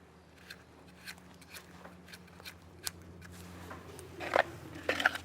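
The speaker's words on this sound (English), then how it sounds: "This is where we cut the slope in the claw" Quiet, close snipping and scraping as a cow's claw slope is trimmed during hoof care, a series of short crisp cuts at irregular intervals, a couple of louder clicks near the end, with a low steady hum underneath.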